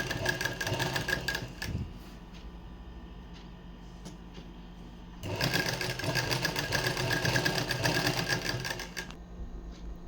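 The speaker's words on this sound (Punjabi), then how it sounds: "ਕੱਪੜੇ ਦੇ ਬਿਲਕੁਲ ਨੁੱਕਰ ਤੇ ਸਲਾਈ ਲਗਾ ਲਵਾਂਗੇ" A normal sewing machine stitches along the corner of suit fabric, with a fast rattling run of stitches, a pause with quieter mechanical ticking, then a second loud sustained burst of stitching.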